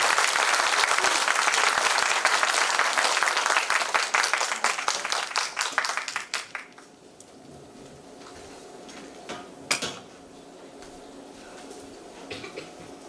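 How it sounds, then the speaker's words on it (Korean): A church congregation at an evening retreat service applauds to welcome a visiting pastor, loud sustained clapping from many people that thins out and stops around six seconds, leaving a quiet room with a brief stir near the end. "우리 박수로 맞이하겠습니다"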